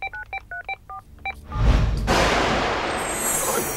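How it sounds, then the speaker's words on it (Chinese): Telephone keypad tones as a number is dialed: about eight short, evenly spaced beeps, close and clear, followed by a loud low boom and a sustained rushing swell. "我现在就打"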